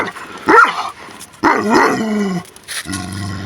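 A dog barks and yips close by in a few sharp, separate outbursts, including a strained whining bark and a lower growly one, with short quiet gaps between them.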